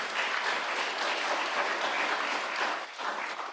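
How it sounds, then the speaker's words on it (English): An audience applauds a conference panel at a plenary session, a dense, even clatter of many hands that holds steady for a few seconds and then thins out. "So, a big round of applause to our wonderful panel."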